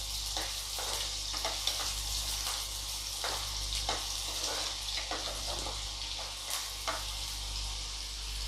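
Onion frying in hot oil, a steady crackling sizzle with scattered pops and spatters, heard alone at moderate level over a low hum.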